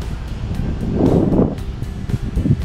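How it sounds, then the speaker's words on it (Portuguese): Strong wind at Praia do Sol beach in Barra Velha, Santa Catarina, rumbles and buffets close to the microphone, swelling into a louder gust mid-clip before settling back, with no talking. "E hoje ainda não é um bom dia, que tem muito vento"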